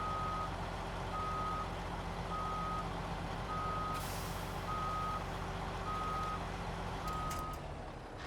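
A Navistar truck reverses toward a trailer in SnowRunner. Its steady reversing beeper pulses at an even rhythm over a low, constant diesel engine drone, and a brief hiss of air brakes comes through partway.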